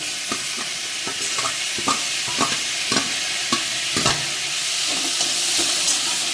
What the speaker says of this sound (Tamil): இப்போ நல்லா வெங்காயம் வதங்கிருச்சு இப்போ தக்காளி சேர்த்துக்கலாம் கருவேப்பிலை அதோட சேர்த்துருக்கேன்